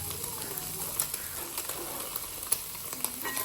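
Eggs sizzling in a pan for mushroom egg fried rice, a soft continuous crackle with scattered sharper pops and spatters, no voices.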